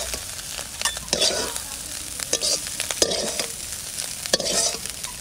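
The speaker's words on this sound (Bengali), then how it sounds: "চিংড়ি ভাজা হয়ে গেছে, এবার তুলে নেব।" Shrimp fry in hot oil with a continuous bright sizzle, punctuated by repeated scraping strokes of a spatula stirring the pan, close and fairly loud.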